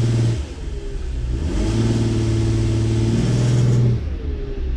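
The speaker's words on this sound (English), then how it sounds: "I'm gonna put it in reverse and I'm gonna do the stall test." Car engine revving during a transmission stall test in reverse, a close, loud mid-pitched drone that dips, then rises and holds in steady surges before easing off near the end.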